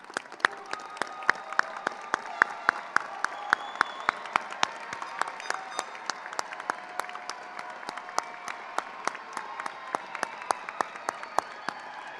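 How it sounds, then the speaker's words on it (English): Applause at the Basic Academy High School graduation as alumni stand, with a broad crowd clapping throughout and sharp individual claps popping out close by in a steady, rapid rhythm. "please stand so we may give you a big round of applause"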